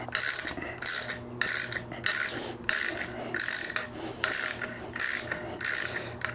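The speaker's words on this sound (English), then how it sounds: "I want to tighten this clockwise until it bottoms out." An Allen key ratchets clockwise on the shaft of a Dobinsons MRR 3-way front strut for a Toyota Land Cruiser, giving a run of loud, close, evenly spaced clicking bursts with short pauses between them.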